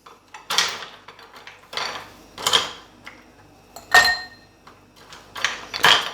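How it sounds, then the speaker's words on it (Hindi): Ice cubes dropped into glasses for mango juice: several separate clinking, rattling bursts at irregular intervals, each sharp and close, with quiet gaps between. "अब हम ग्लासेस में आइस क्यूब डालते हैं"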